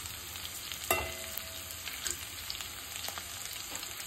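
Ginger garlic paste and turmeric frying in oil, a close continuous sizzle broken by a sharp clack near the start and scattered scraping stirs, no voices.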